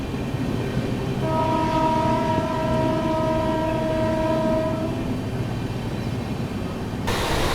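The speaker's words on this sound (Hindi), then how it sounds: "भाई देखो ट्रेन ने दोबारा से रफ्तार बना ली है" A Prayagraj–Anand Vihar Humsafar Express running at speed gives a steady loud rumble of wheels and carriages, with a long sustained train horn blast lasting several seconds in the middle.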